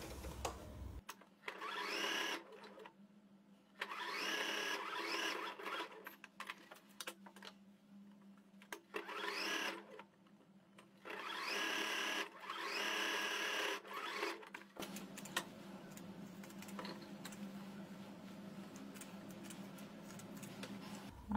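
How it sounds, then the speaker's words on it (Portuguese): A sewing machine stitches a bath towel being made into a panda hooded towel. Close, fast mechanical whirring comes in repeated bursts separated by short pauses, then gives way to a lower continuous hum. "eu vou começar a costura daqui de cima até aqui"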